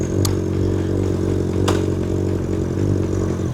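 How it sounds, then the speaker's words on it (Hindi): Suzuki Hayabusa motorcycle engine running steadily as a ride begins, a loud, continuous low throb close by with a couple of brief sharp clicks, no talking. "मैं लगभग 5 या 6 साल बाद हायाबुसा चला रहा हूँ"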